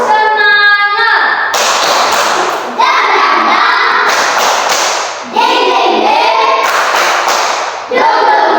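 Children in a primary school classroom perform a rhythmic clapping chant, bursts of claps and thumps in sections separated by short pauses, loud and close, with young voices mixed in.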